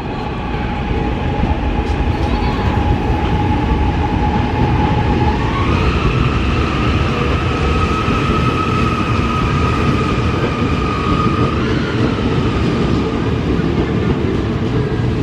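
An INKA EA-207 KRL commuter electric train rolls past at close range with a steady, loud rumble of wheels and motors, its whining tone stepping up in pitch midway through the pass.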